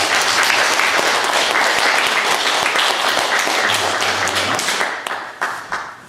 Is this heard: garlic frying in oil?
no